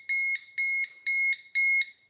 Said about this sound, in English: then it's going to set off an alarm